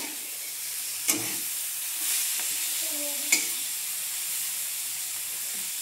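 Cluster beans (gavar) fry in hot oil until crisp, giving a steady, close sizzle throughout, broken by two sharp clicks of a stirring utensil.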